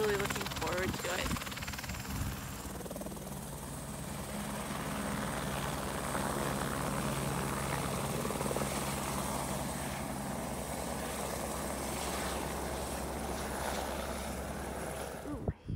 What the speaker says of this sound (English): We've got a helicopter that's about to take off from the heliport over here.